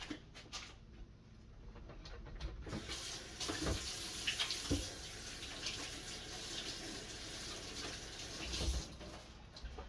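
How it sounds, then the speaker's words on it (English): Hand washing under a running kitchen tap during cake baking, a steady broadband stream of water splashing into a sink for the whole stretch, with a few brief louder splashes and clatters near the middle and the end. "let me wash my hands"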